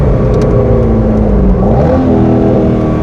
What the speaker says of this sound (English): I love that downshift. What a cool car.